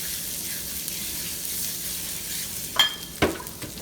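Flour roux being stirred in a frying pan for biscuit gravy, a steady soft sizzle with two sharper scraping clicks of the utensil against the pan near the end.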